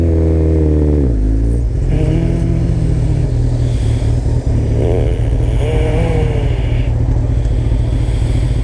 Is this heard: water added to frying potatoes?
no